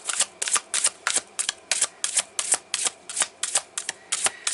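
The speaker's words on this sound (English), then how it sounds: "the shuffling has been difficult this week" Tarot cards are riffled and shuffled by hand in quick regular bursts, roughly fourteen crisp flutters in close succession, near and clear with no talking.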